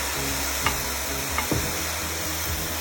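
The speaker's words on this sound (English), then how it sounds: "Let's give it just a slight stir in the pot. See, look at it. It's caramelizing." Vegetables caramelizing with balsamic vinegar in a hot pot, a steady sizzle with a few soft scrapes of a spoon stirring them, close and continuous.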